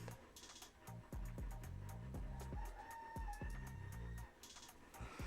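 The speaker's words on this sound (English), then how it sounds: "I don't know if you guys hear the rooster in the background," A rooster crows in the background, partly buried under steady rhythmic thumping and clattering noise that runs throughout, near an indoor grow room.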